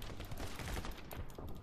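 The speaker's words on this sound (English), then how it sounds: "It's like a harmony of gunshots." Video game gunfire rattles in a rapid, dense burst of shots, fairly faint and muffled, with no talk.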